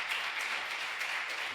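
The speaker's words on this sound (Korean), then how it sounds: "박수 한번" A congregation claps together inside a church, a steady, even wash of applause lasting the whole moment with no voices over it.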